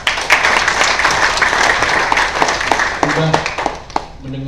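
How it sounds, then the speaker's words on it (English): A seated audience at a talk gives applause for a bestselling book, loud close clapping from many hands that runs steadily, with a voice speaking over it toward the end. "Kita berikan applause"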